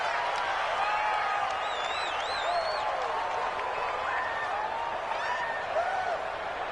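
Crowd noise from a stadium in a PS4 American football video game: a steady roar of cheering and clapping with whoops and whistles rising over it.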